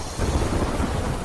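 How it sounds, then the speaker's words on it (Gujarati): Heavy downpour in Shahabad, Rajasthan: a dense, steady low rumble of rain roars continuously and fairly loud throughout, with no voices. "રાજસ્થાનના શાહબાદમાં ધોધમાર વરસાદ"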